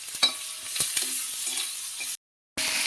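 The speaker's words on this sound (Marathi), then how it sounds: "लसूण चांगला ब्राऊन होऊन द्यायचा मिरची आणि हे चांगलं ब्राऊन होऊन द्यायचं" Garlic and chillies browning in a pan, with a steady crackling sizzle and a few sharp spatula taps, briefly cutting to silence before the frying resumes.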